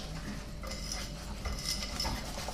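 Egg yolks whisked into chestnut cream in a bowl make a soft, continuous scraping and light clinking of utensil against the bowl, close and fairly quiet with no talk.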